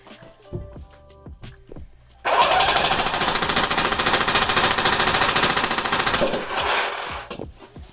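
A jackhammer pounds into a bathroom concrete floor, a sudden loud, continuous rapid hammering that runs for about four seconds before stopping, with faint knocks and movement around it.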